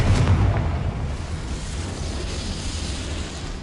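A Confringo spell explodes in Hogwarts Legacy with a heavy, close blast that settles into a dense, sustained roar, loud and alone.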